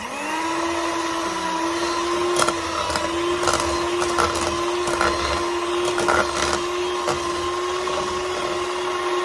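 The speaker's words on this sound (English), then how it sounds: "I'm gonna whisk this nicely. I'm gonna start by whisking." Butter being whisked in a bowl with an electric mixer for shortbread dough, a steady motor whine with a constant pitch, broken by scraping clicks against the bowl, fairly close and without talk.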